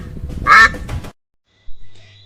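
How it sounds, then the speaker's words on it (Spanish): A farm duck gives a short burst of loud, nasal quacks lasting about a second, followed by silence and then a faint low hum. "El pato."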